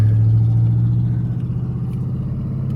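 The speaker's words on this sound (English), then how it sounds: "this traffic is so insane" Steady car engine rumble of downtown Midland, Texas road traffic, a close vehicle droning loudly and holding its low hum throughout with some clatter.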